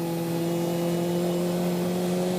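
A steady motor drone with a sustained tonal hum holds at even loudness, like a motorcycle engine cruising along nearby.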